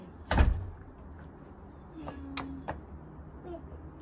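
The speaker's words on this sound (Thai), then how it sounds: "ปิดประตูด้วยลูก" A door shutting at home as a child heads off to school, one solid thump near the start, then quieter knocks and rattles later on, with faint household background.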